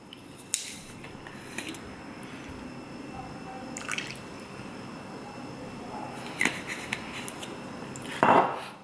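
Black vinegar drips and splashes into instant ramen broth, heard as a few soft, separate drips and light clinks in a quiet room, with a brief, slightly louder splash near the end.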